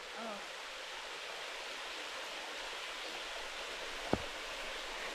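Small waterfall cascading on Bear Creek in Arkansas, a steady soft broadband rush of falling water heard from a short distance, faint and unbroken, with one brief sharp knock near the end.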